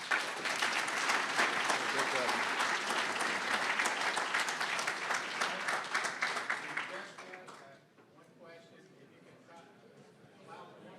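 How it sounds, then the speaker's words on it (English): An audience at a rail corridor conference session breaks into loud, sustained applause that fades out toward the end, leaving quiet murmuring. "We get one more round of applause."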